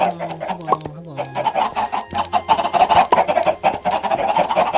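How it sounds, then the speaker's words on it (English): Chickens cluck repeatedly in Minecraft, a loud, busy run of close clucks layered over game tones, with a voice talking briefly underneath. "Just trying to figure out where all these chicken sounds are coming from"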